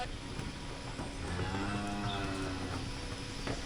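Cattle mooing in a busy barn during hoof trimming, several low drawn-out calls over a steady background of shuffling and machinery noise.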